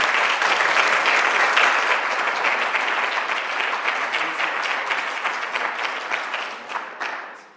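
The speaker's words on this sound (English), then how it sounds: "This a round of applause for our panelists and for all the papers." A conference audience applauds the panelists at a session on Ulysses, with steady, dense clapping filling the room for about seven seconds before tapering off at the end.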